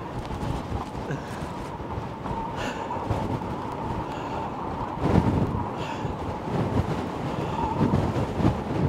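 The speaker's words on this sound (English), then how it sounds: "It's only a bit of wind." Strong Storm Ashley winds batter the Blackpool seafront, a continuous roaring buffet across the microphone with gusts swelling and fading, plus a steady mid-pitched drone underneath.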